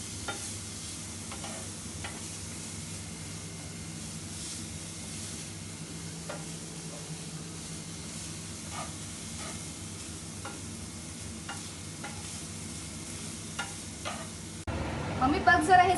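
Jaggery melts in a pan over low heat, giving a low, steady sizzle with occasional light scrapes as it is stirred, then a louder clatter near the end.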